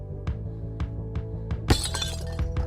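A glass vacuum tube, wrapped in plastic, takes several sharp taps before a harder strike shatters it with a bright crack and a spray of crackling, tinkling fragments, close and alone.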